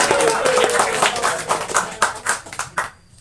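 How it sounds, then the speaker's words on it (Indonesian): An audience claps in a quick, dense burst of hand claps that thins into a few scattered claps before stopping abruptly, with some voices underneath. "Tepuk tangan dulu."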